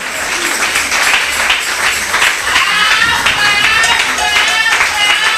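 A church congregation at a night vigil applauds steadily, dense sustained clapping filling the room for several seconds, with voices mixed in beneath.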